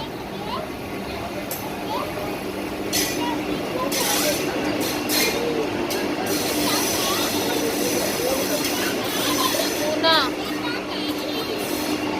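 A rumbling, rattling crowded passenger train runs steadily throughout, with a busy carriage hubbub of voices and children over the rolling noise.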